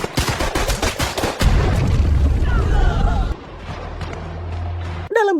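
Intense gunfire from a film shootout between police and Mexican mafia members: rapid rhythmic bursts of shots at the start, then a sustained loud rumble of heavy fire and explosions, ending with a sharp final blast.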